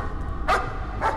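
Two short dog barks sound in the horror game Layers of Fear, moderately loud and about half a second apart over a dark, droning background.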